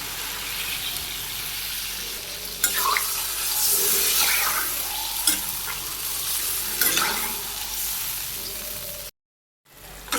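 Vegetable curry with potato and stems frying and simmering in a pan as broth is added, a continuous sizzle broken by several sharp stirring scrapes, close, ending in a brief silence; no talk.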